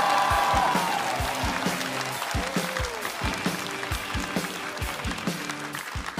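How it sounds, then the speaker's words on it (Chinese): An audience at a stand-up comedy competition applauds as a performer comes onstage. The clapping is dense and sustained throughout, with a brief rising musical sting early on and some faint talk mixed in. "我们掌声有请唐湘玉"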